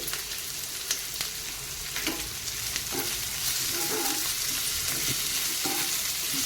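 Onions frying with salt in a pan give a dense, steady crackling sizzle throughout, with small pops and faint stirring scrapes.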